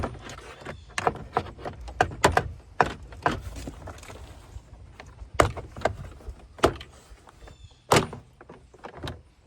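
Plastic door panel clips pop loose from a 2025 Toyota Corolla door in a series of sharp, close snaps and knocks with scraping and rustling handling sounds between them.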